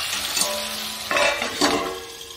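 Gravy masala seasoned with salt sizzles in a pan for malai kofta while a spoon scrapes through it in two or three short, close stirring strokes over a soft, continuous frying hiss.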